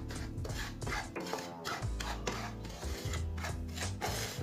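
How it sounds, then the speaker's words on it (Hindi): Semolina being stirred and dry-roasted in a pan over medium heat, a continuous rough rasping scrape of a spoon against the pan with a dry granular rustle, close and steady throughout. "ऐसे ही चलाते हुए इसे ब्राउन करना मीडियम आंच पर।"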